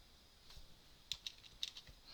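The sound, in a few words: typing on a computer keyboard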